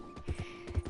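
Soft hoofbeats of a horse in Red Dead Redemption 2, a few quick muffled clip-clops in an uneven rhythm, faint and close.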